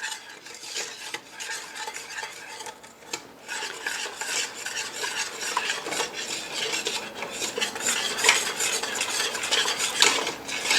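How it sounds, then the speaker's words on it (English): Mulberry jam mixture being whisked in a pot, a steady scraping, clinking whisk against metal that runs continuously for the whole stretch at moderate loudness, with no voices. "you're just going to whisk it together and bring it up to a boil"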